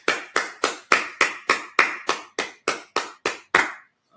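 Congregation at a Sabbath service clapping in unison, thirteen loud, crisp, evenly spaced claps in a steady beat, each ringing briefly in the room before stopping.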